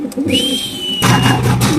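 A pair of chalk pigeons coo softly in a cage at a pigeon farm, a low throaty murmur near the end with a thin whistle-like tone earlier and faint farm noise around.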